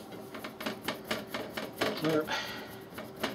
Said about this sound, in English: I'll get a couple of screws started so I can get this held into place